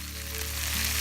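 Red chilies cut into small pieces sizzle in hot oil in a pan as they are stirred continuously. The frying hiss is steady and close, with no talking over it.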